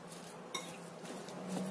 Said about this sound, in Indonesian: Ini kita aduk semua jadi satu sekalian.